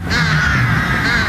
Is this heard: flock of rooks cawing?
yes